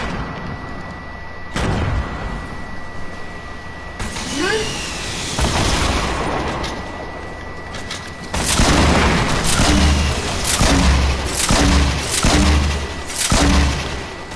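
Lit explosives go off in a shooter game with a rocket launcher, a dense run of loud, close booms and crackling blasts that turns into a rapid, heavy fusillade toward the end.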